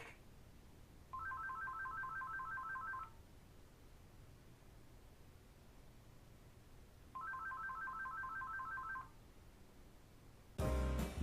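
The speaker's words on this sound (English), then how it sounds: "that's my phone ringing." An electronic phone ringtone trills twice, each burst about two seconds long with a pause between, fairly quiet against a hushed room.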